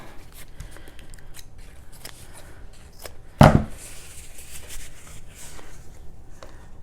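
Scissors snipping through paper towels during a walking water experiment, with soft, scattered cuts and one sharp, loud snip in the middle against quiet background handling.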